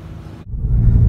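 A Toyota Yaris GRMN Gazoo Racing engine and exhaust, a brief close rumble that drops out for an instant, then swells into a loud, deep roar.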